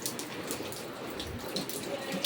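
Heavy rain pours steadily on a house under roof renovation with hollow blocks, a dense, continuous hiss of drops spattering on surfaces at close range.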